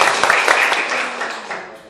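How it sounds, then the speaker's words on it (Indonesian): A crowd applauds with dense, steady clapping that fades away over a couple of seconds. "Tepuk tangan lagi dong untuk Pak Ahok."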